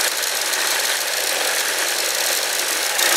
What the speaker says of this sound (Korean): 네, 시동 걸었습니다.